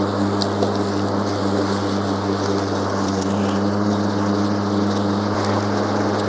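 An Ego 48-volt battery lawn mower, running on two 24-volt batteries, cuts longer grass with a steady, even motor hum and blade whir throughout, close and moderately loud, with no speech.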